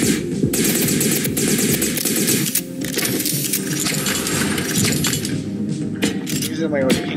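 Rapid, continuous gunfire from a weapon in the video game Neon Knights, loud and dense with mechanical clatter and other game effects throughout, with a voice faintly present underneath.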